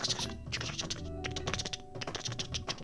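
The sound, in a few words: typing on a computer keyboard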